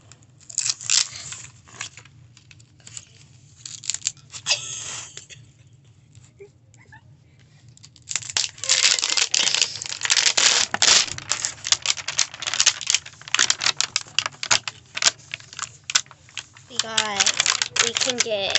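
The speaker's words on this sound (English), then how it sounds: "Let's start now with the zipper." A zipper being opened on a package of candy during an unboxing, giving sustained bursts of rasping, clicking zip noise that grow louder and denser in the second half, with brief faint sounds between.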